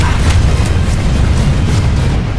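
Grenade blast in the Planetside 2 shooter, a heavy deep boom swelling into a sustained low rumble that fills the short stretch, loud with no voices over it.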